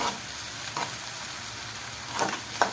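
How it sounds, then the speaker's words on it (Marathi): Onion sautés in a pan with salt for vermicelli upma, a steady crackling sizzle broken by a few louder scrapes of stirring. "कांदा चांगला परतून घ्यायचा"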